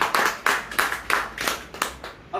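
An audience claps at a presentation on Modicare benefits: a moderate round of sharp hand claps with irregular bursts, fading out near the end.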